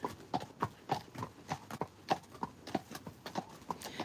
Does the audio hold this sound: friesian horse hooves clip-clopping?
yes